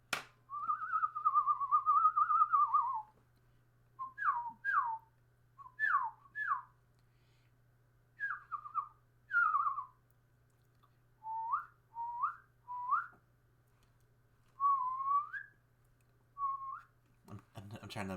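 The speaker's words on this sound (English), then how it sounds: "I can whistle pretty good." A person whistles a tune quietly and close by, in a series of short pitched phrases and slides separated by brief pauses. A low steady hum sits underneath throughout.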